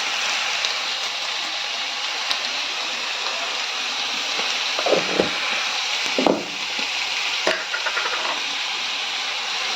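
Chicken stirred and frying in a pan of spiced masala with turmeric and salt, a steady close sizzle and hiss with occasional scraping stir sounds, no talking.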